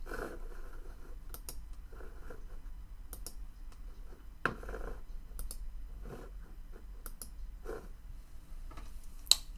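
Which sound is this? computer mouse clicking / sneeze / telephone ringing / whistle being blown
computer mouse clicking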